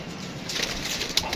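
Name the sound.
pigeons cooing and flapping wings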